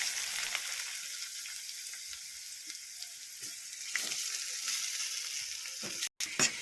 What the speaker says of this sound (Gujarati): હવે મિત્રો ઘી સારી રીતે ઓગળી જાય એટલે આપણે તેમાં દૂધીનું ખમણ નાખી દેશું